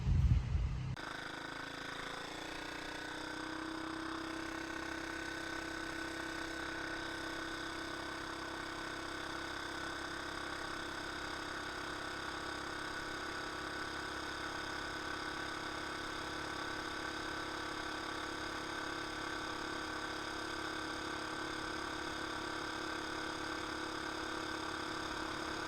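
Homemade three-wheeler's engine starts with a loud burst, then settles into a steady, even running drone that holds throughout, with no talk.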